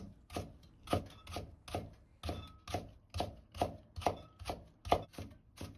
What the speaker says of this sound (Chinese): 胡萝卜先斜刀切成稍微厚点的片， 再切成细丝